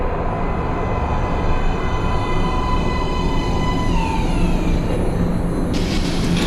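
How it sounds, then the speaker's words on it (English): A metro train pulls into an underground station platform, its steady rumble and rising whine building loudly, with screeching brakes near the end and no voices. "Train coming in."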